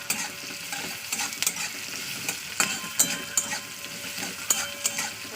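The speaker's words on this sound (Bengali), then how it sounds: "তো রসুনটা দিয়ে একটু হালকা তেলে ভেজে নেওয়া" Garlic frying in oil with a steady sizzle, broken by repeated scraping stirs of a utensil against the pan.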